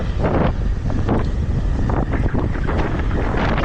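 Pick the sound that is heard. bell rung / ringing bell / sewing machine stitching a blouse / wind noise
wind noise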